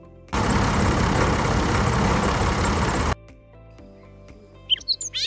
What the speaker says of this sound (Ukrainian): Наприклад, трактор